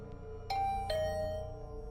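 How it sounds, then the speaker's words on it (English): A doorbell in the video game The Hundred Line: Last Defense Academy rings a clear two-tone ding-dong, the chimes close together, then fading out over a low background hum. "The bell rang again."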